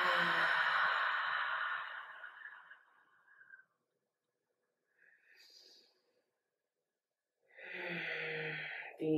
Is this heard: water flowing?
no